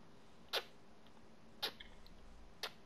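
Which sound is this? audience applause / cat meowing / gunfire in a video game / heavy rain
cat meowing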